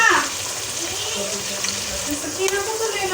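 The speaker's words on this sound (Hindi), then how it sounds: "इसमें थोड़ा सा पानी ऐड करूँगी।" A little water is poured into yogurt while preparing a Pakistani matar pulao, making a steady, close splashing gush that runs continuously for a few seconds with no spoken words over it.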